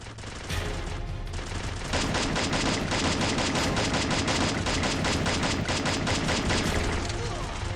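Rapid bursts of gunfire in the mobile shooter game Free Fire, dense and loud, running almost without a break for several seconds.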